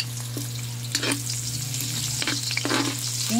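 Onions sautéing in hot oil in a pan, with a continuous loud sizzle and crackle close by and a few stirring scrapes, no speech.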